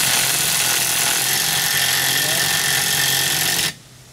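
An electric impact wrench fastens the prop nut on a Mercury outboard, one continuous loud buzzing burst that stops abruptly near the end, close up and with no talk.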